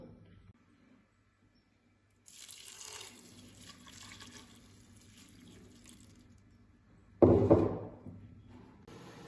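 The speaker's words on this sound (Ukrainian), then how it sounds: "Натерше мило вливаємо у кастрюлю попередньо прокип'ячену воду" Boiled water pours from a pot into a saucepan holding grated soap, a steady near splash running several seconds, then a louder brief gush and knock near the end.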